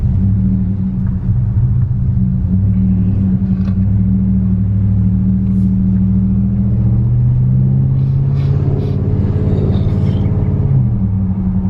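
A Ram truck fitted with a swapped 8-speed transmission pulls through the gears at low speed, its heavy engine rumble rising in pitch and dropping at each shift, loud and close from inside the cab.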